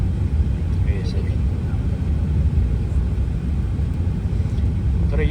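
A large airplane passes overhead as a steady, deep rumble that fills the whole stretch, with people talking over it.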